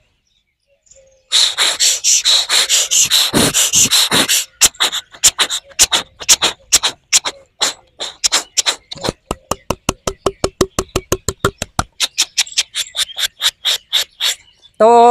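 A blind young man from Surendranagar imitates a farm irrigation water pump with his voice, starting with a sustained raspy drone and then breaking into rapid, rhythmic chugging pulses that speed up and repeat for several seconds, loud and close.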